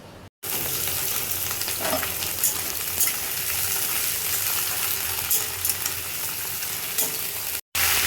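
Pieces of drumstick vegetable (sajne danta) frying in hot oil with nigella seeds, a steady loud sizzle that runs unbroken for several seconds after a brief quiet start, with faint stirring.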